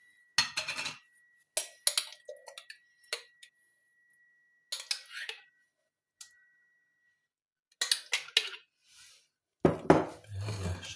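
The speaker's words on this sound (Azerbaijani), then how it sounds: "mayonezimizi töküb yaxşıca qarışdıracağıq" A spoon stirs crab salad with mayonnaise in a bowl, making intermittent clinks and scrapes in short irregular bursts with quiet gaps between them, close and clear.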